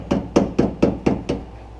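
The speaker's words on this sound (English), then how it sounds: "It is okay to give these a slight tap with a hammer" A hammer lightly taps the retaining tab of a door lock cylinder on a 1977 Ford Thunderbird, six evenly spaced, crisp metallic knocks, close and alone.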